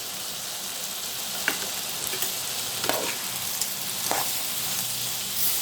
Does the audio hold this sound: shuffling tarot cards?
no